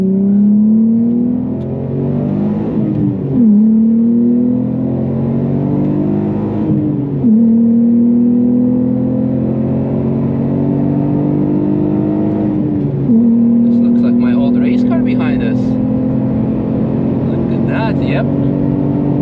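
A VW Scirocco with a 3.2 V6 engine races on the Nürburgring, revving hard through repeated climbing gear pulls with brief dips at each shift, loud and close from inside the car.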